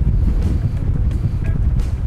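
Strong outdoor wind gusts roar steadily across the microphone with heavy low buffeting throughout, loud and continuous, with no voices.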